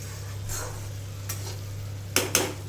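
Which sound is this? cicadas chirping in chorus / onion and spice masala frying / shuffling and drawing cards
onion and spice masala frying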